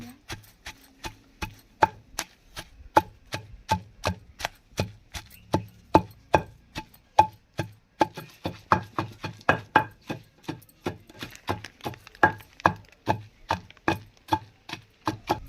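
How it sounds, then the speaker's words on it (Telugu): Coarsely pounding village-style chutney ingredients with salt, a steady run of sharp, evenly spaced thuds repeating about twice a second, close and alone without talk. "ఇట్లా కచ్చబచ్చగా దంచుకున్న తర్వాత కాల్చిన టమాటాలు వేసేసుకోవాలా"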